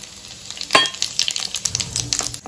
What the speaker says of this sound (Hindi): इसमें मैं डाल रही हूँ ये सारे खड़ा मसाला